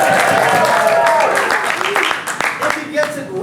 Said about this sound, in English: I want you to break out into loud applause, okay?